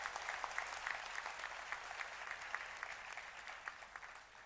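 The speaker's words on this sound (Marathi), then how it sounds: "जरा जोळ्या टाळ्या वाजवा म्हणजे त्यांना कळेल गरज आहे." An audience at Prashant Damle's speech in Nashik breaks into steady applause, a faint, far-off wash of many hands clapping that lasts throughout.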